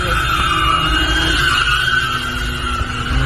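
A car drifts at an intersection in Sultanbeyli, its tyres shrieking in a continuous, loud, high-pitched squeal over a rumbling engine, sustained without a break.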